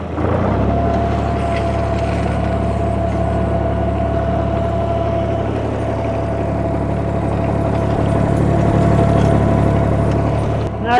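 Truck engine running steadily while pulling a homemade drag made from old worn-out tire chains hooked together over a road, a constant loud rumbling drone for the whole stretch with a slight swell near the end.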